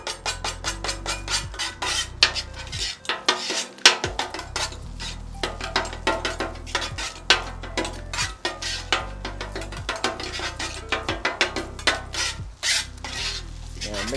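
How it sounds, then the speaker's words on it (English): A metal spatula chops eggs on a hibachi grill with fast, steady clacks against the flat steel, over a continuous sizzle as fried rice cooks, close and loud with no talking. "Now let's go ahead and chop up the eggs."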